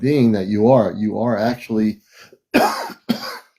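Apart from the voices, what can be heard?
person coughing from allergy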